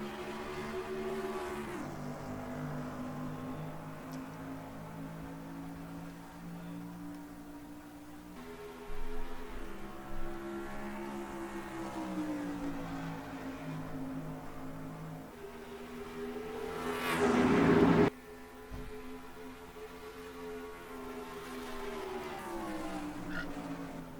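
A pack of simulated ARCA stock cars on the Kansas oval in a racing video game drones and revs together, layered engine tones rising and shifting in pitch, with one louder roaring surge near the end.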